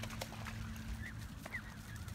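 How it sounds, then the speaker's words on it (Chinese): Nine ducklings following their parents give a few faint, high peeps over a low steady outdoor hum, heard from a short distance. "小鸭子"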